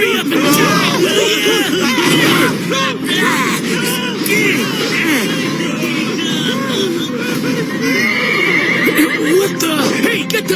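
Agitated horses in an anime scene, loud repeated neighs and whinnies overlapping one another throughout with some hoof clatter and crowd babble beneath.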